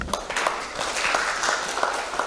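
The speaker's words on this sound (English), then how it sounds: "Another round of applause, please" Health forum audience applauding the panelists at the close of a session, a steady, dense round of clapping in a hall, fairly loud and even throughout.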